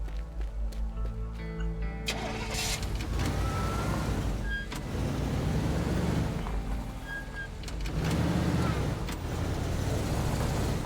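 A red car driven at a locked gate to break it open in the Teardown game, engine droning and revving steadily with knocks and clatters along the way.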